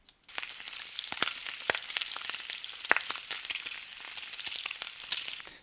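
Bacon frying in a pan, a continuous crackling sizzle with dense irregular pops and sharp spits, close and fairly loud, lasting a few seconds with no voices.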